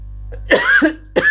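A single harsh cough from a sore, infected throat in cold weather bursts out close to the mic, followed a moment later by the start of another cough.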